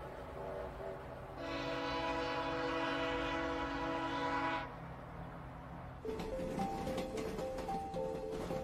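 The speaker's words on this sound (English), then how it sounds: "the circus train crosses the border into Canada" A circus train rumbles by with a sustained horn blast partway through, followed by the clatter and squeal of rail cars rolling past nearby.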